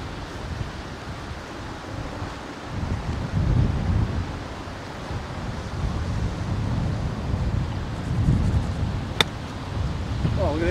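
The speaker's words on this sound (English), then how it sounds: "It's very windy today." Strong wind buffets the microphone on a golf course at Tenterfield Golf Club, a steady low roar with gusty swells throughout, plus a brief sharp click near the end.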